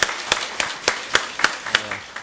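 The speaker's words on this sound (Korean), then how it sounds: "우리 한번 박수로 큰 격려해 주시기" A small church congregation claps in a few scattered bursts, sharp individual claps spaced irregularly and close by, sparse rather than a full ovation.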